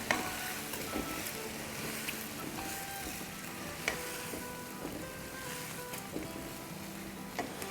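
A frying pan sizzles steadily as vegetables and ketchup sauce for chili paneer are stirred, with occasional light clinks and scrapes of the utensil against the pan, moderately quiet and with no talking.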